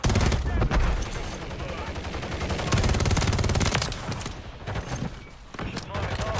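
Dense, continuous automatic gunfire from the Call of Duty MW3 video game, including a WSP Swarm submachine gun, loud and close throughout with brief pauses and bursts.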